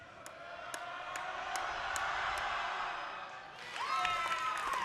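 Crowd noise swells at a high school boys' varsity basketball game between York and Lyons Township, a broad sustained roar with cheering and sharp squeaks or whistles, growing louder near the end as a voice calls out over it.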